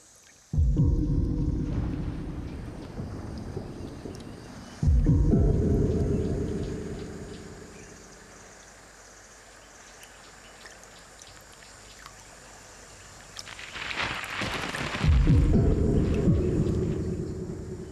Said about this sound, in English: This rolling thunder announces a crucial event for all of the inhabitants of the river and its banks